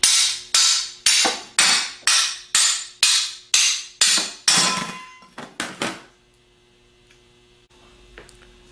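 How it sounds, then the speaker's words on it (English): A ball peen hammer strikes the outer front plate of a GM AD series alternator about a dozen times in a steady rhythm, each metal tap ringing briefly, then a few quicker taps before quiet. "tap down on the outer part of the front plate with a ball peen hammer"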